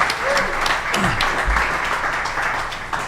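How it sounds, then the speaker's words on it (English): A crowd claps and applauds steadily, loud and dense throughout, with a few voices faintly audible underneath. "Give them a round of applause."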